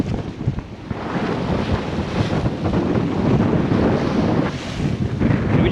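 Strong wind roars and buffets the microphone aboard a sailboat heading upriver on the Saint Lawrence River, with waves washing against the hull in a continuous loud rush.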